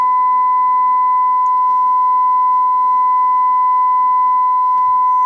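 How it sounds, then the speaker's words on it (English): A steady sine wave test tone plays through a single-ended KT88 tube amplifier build, one loud, unbroken pitch held throughout with a faint harmonic above and a low hum beneath. "you can start to hear the sine wave a little bit"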